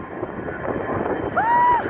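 Airplane taking off and passing near DCA airport in headwind, a steady broadband roar throughout that swells louder in the final half second, with a brief exclamation from a person nearby.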